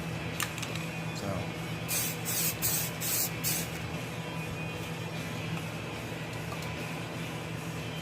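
Several short spray-paint bursts hiss in quick succession from a can held far back for a light dusting that gives a rusted effect, set against a steady background hum.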